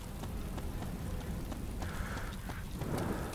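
Rain falling in the video game DayZ, a dense constant hiss and patter close around, with a few brief mechanical clicks and no talk.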